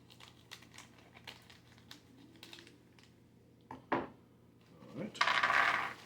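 Light clicks and taps while a bag of chickpea snacks is handled, followed by a close burst of crinkling plastic as the package is torn open, fairly quiet in a room.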